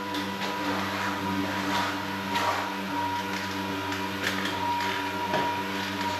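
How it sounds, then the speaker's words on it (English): A cordless Milwaukee buffer with a wool pad whirs steadily and close while buffing color-sanded paint on a 1969 VW Beetle convertible's rear quarter panel, its motor tone holding constant with slight pressure-driven swells. "I start out with a wool pad. I've got a cordless, Milwaukee cordless buffer."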